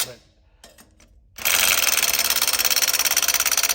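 A 730hp Detroit diesel truck engine, fitted with a newly changed turbine housing, is throttled. A few quiet clanks come first, then it bursts into a loud, close, rapidly pulsing roar that holds steady to the end.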